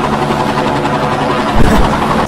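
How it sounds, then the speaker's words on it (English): Helicopter in the Zero Caliber VR game passes overhead with a loud, steady rotor thrum and low engine drone, swelling briefly near the end as it sweeps by. "It's always the damn choppers coming by right as I exit the door."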